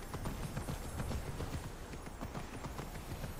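A horse's hooves clip-clop steadily in the game Immortals Fenyx Rising, a brisk, even trot of quick footfalls set against a constant background wash.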